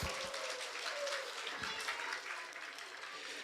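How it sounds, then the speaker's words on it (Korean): A children's church congregation claps together in a lively, moderately loud burst that carries on evenly, with a few sharper individual claps near the start. "박수 한번 쳐줍시다"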